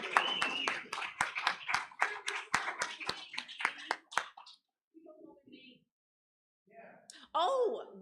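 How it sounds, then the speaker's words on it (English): A church congregation at a Thanksgiving service claps for arriving guests, a dense burst of applause with sharp hand claps for about four seconds, then fading into quieter murmurs and movement before voices rise near the end. "And let's welcome them with some applause."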